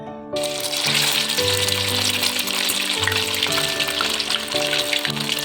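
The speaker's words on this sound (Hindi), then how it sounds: "ऐसे करके इसको हमने डिप कर लेना अंडे में और अब इसको हमने फ्राई करना है।" A bread burger dipped in egg fries in a pan with a steady, crackling sizzle, heard close and continuous over background music.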